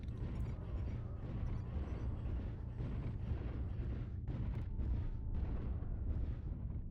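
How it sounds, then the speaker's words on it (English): Volleys of missiles launching and bursting in MechWarrior Online, a dense continuous rumble of explosions and rocket fire rolling on for several seconds with no clear gaps. "I can fire missiles"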